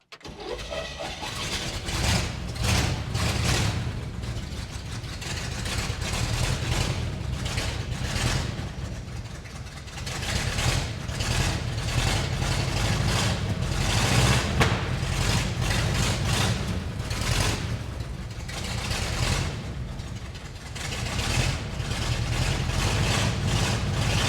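A 1970 Chevrolet K10 4x4 pickup with fresh spark plugs cranks and catches, then its engine idles loudly and roughly with a steady low rumble and uneven pulsing throughout.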